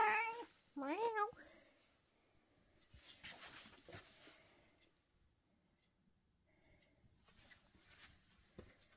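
A cat at home meows twice in quick succession near the start, close and clear, followed by quieter rustling and soft background sounds, with a person speaking faintly in between.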